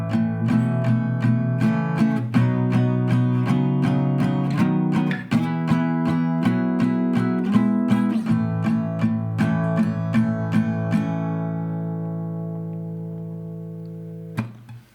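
Guitar strumming the chorus of a song, a repeating chord progression of evenly spaced, ringing strums that holds near and clear, then lets the last chord sustain and fade before a final soft touch.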